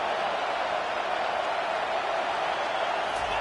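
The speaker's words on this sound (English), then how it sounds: "And here comes the noise. This crowd is trying to inspire this defense to make a big red zone stop." Steady roar of a college football stadium crowd rising to urge the home defense toward a red zone stop, a dense continuous wall of cheering with no gaps.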